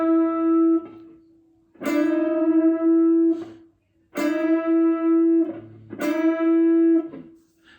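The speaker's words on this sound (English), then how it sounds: "hit both strings at the same time and listen as the pitch of the third string comes up and eventually matches the pitch on the second string" An electric guitar plays two notes together while the third string is bent up until its pitch meets the second string, heard in three separate sustained attempts, each rising slightly and then ringing steady before fading, with no talk.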